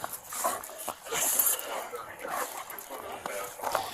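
A police dog whimpers and yips during a tug-of-war reward, with brief whines scattered through a noisy scene under overlapping talk.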